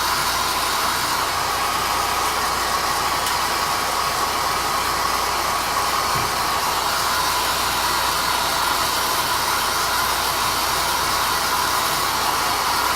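A handheld dryer blows steadily to dry ink on a page, producing a continuous, loud, even whooshing hum that runs unbroken throughout with no voices.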